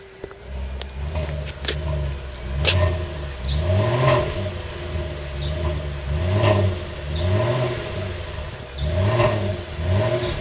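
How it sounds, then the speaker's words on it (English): A Volvo S80 4.4 V8 engine revs repeatedly, rising and falling in pitch in regular bursts from close by, settling back toward idle between each. "let's just have a couple of revs"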